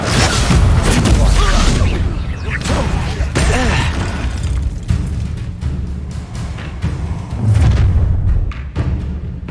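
Incendio fire spell cast during combat in the Hogwarts Legacy video game, loud heavy thuds, booms and bursting crackles rolling on steadily, close and dense, with voices partly underneath.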